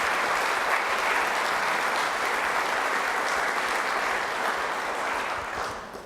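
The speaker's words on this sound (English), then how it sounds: "would you join me in just giving thanks and a round of applause to all of these great people?" An audience at the Nixon Library applauds the volunteer docents, a sustained, even round of clapping from a large crowd that holds steady before easing off at the end.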